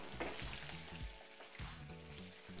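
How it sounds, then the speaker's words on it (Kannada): Garlic and curry leaves fry in hot tempering oil for foxtail millet khichdi, giving a steady close sizzle with occasional stirring clatter and no talk. "ಓಕೆ, ಸ್ವಲ್ಪ ಇದನ್ನು ಫ್ರೈ ಮಾಡಿ, ಆಮೇಲೆ ನಮ್ಗೆ ಎಷ್ಟು ಕರಿಬೇವು ಬೇಕು ಅಷ್ಟು ಕರಿಬೇವು ಹಾಕಿ."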